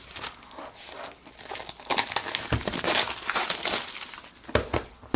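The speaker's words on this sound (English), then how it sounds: "looks like we have some plastic to take off here, so I'm just going to cut it along the side." Plastic wrap on an Oppo Find 7 phone box is cut along the side and peeled off, giving close, steady crinkling and crackling with short tearing bursts, no talking.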